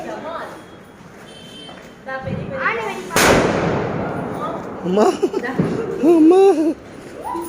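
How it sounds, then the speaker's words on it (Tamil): During Diwali celebrations, one loud, sharp firecracker bang bursts out mid-clip, surrounded by excited voices and laughter nearby. "யானை வெடி"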